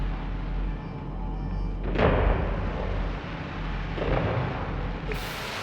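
Fireworks launch in a video game with two muffled booming thumps a couple of seconds apart over a steady low rumble, no voices.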